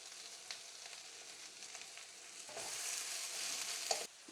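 Cauliflower and broccoli sizzling in a pan, a soft steady frying hiss with occasional light clinks and stirring, growing louder and fuller partway through before cutting off abruptly.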